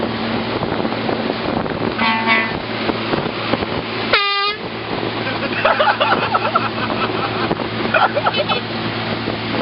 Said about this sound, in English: I will air horn him.